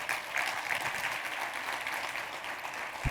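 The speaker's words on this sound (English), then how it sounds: "Give me a round of applause." Audience applause at a live talk, a steady wash of many hands clapping throughout, moderately loud and fairly even with one sharper thump near the end.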